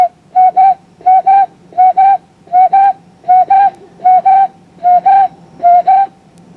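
A whistled imitation of the oulou, a small partridge, repeated as a regular series of about nine paired clear whistle notes, fairly loud and close, with no talk over it.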